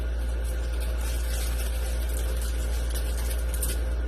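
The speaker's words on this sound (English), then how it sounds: "I got the air con on, you can hear it in the background" A home air conditioner runs in a hot room, giving a constant low hum with a flat, airy hiss over it. The drone stays steady and unchanging throughout, with no voices.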